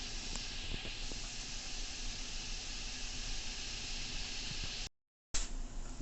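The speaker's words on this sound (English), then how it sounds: "I'm gonna cover this up and let it steam" A covered pan of chicken and cabbage stir fry steams with a steady, even hiss that runs continuously, then cuts out briefly before resuming.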